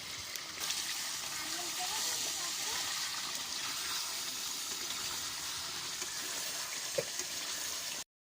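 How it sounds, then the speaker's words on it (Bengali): Onions frying in a pot of oil for chicken biryani, a steady dense hiss and crackle held evenly throughout, close and moderately loud, with a faint tap near the end before it cuts off. "আমরা এখানে পেঁয়াজটা ভেজে নিচ্ছি।"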